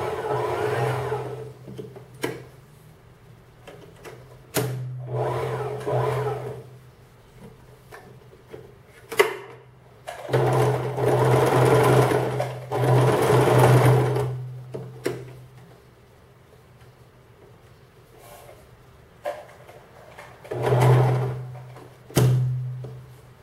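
A sewing machine stitches the side seam of a wool hat made from a coat, its motor humming in several bursts of a few seconds each, separated by quiet pauses and small clicks.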